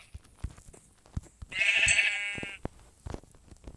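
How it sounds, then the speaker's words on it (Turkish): A sheep in the Minecraft video game bleats once in a clear, quavering cry lasting about a second, surrounded by sparse clicks and taps of gameplay. "Aa buldum koyunu."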